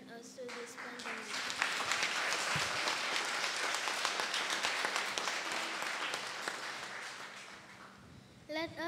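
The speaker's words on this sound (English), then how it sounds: "I would like for us to all stand and give our round of applause for the Lord" A church congregation fills a large room with steady applause, rising and holding for several seconds before tapering off, with a voice at the end.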